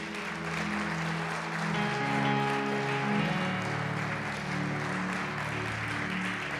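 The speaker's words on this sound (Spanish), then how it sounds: "Den un aplauso a mi Jesús" A congregation applauds in church over held keyboard chords that change in steps, the clapping a soft dense wash beneath the music, moderate and continuous.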